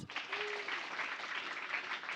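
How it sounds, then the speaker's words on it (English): Steady audience applause at a formal international relations panel event, dense, even clapping from a sizeable crowd filling the whole clip at moderate level, with no voices over it. "Can we give a big round of applause?"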